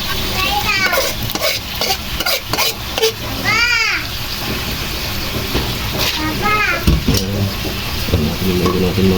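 Mung beans and mixed vegetables sautéing in a pan, a steady sizzle with stirring scrapes throughout, while children's voices and chatter carry on in the background.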